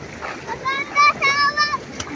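Bathers splash in the water of the Sampaguita River in a natural setting, with several short, irregular splashes close by under cheerful voices and talking.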